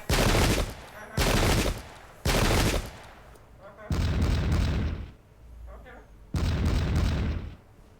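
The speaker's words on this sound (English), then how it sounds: "I really think they're just trying to take us out with volleys" Musket volleys and artillery bombardment rage in an English Civil War video game battle at Bristol: loud bursts of massed gunfire crack out in repeated blocks, separated by rumbling booms and brief lulls.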